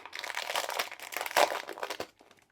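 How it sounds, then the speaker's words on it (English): The glue strip of a sealed package bag being peeled open, a run of close crinkling and crackling plastic noises with a sharper rip partway through before fading, with no one speaking. "Just open the glue strip"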